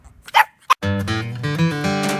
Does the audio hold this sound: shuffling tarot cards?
no